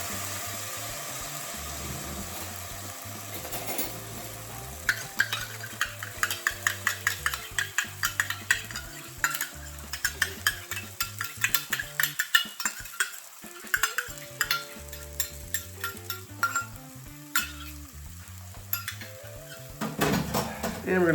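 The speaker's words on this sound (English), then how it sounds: "And we're going to stir occasionally until this thickens into a bit of a paste" A spoon repeatedly scrapes and clinks against a copper pan while a sloppy joe mixture of meat and sauce sizzles underneath, with quick metallic taps clustering over a steady frying hiss and a faint hum in the background.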